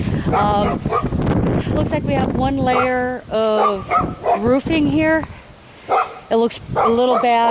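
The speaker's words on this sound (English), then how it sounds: "Sorry about the dog barking next door." A neighbouring dog barks and yips repeatedly next door during an outdoor roof inspection, the barks mixed in with and partly masked by someone talking close by.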